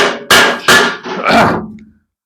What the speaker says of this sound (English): So we can hammer it and we'll shape this as best we can